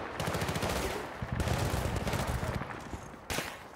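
Loud, rapid automatic gunfire from the video game Battlefield Bad Company 2, fired in dense, continuous bursts with a brief break before one final sharp volley.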